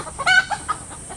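Kadaknath chicken in a village setting giving a few short, close clucks in quick succession, with quiet background and no talking.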